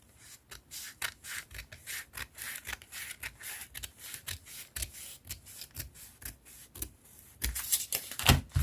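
Scissors snipping through a paper sleeve pattern while cutting out the back armhole, a steady run of short crisp cuts and rustles close by, growing louder near the end, with no talking.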